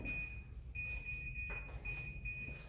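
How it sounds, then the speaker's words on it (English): An alarm beeping, a thin steady high-pitched tone that cuts off and resumes a few times, faint beneath a low background hum with no talk. "They're setting alarms now."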